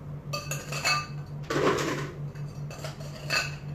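Cocktail glass being handled at home, with several bright clinks and clatters, including one longer rattling burst like ice against glass, close and crisp over a low steady hum.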